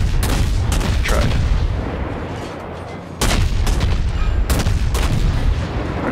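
Guns on a Tier 7 US Navy Mahan destroyer in World of Warships fire in loud, booming salvos, with a short lull near the middle before the heavy reports resume.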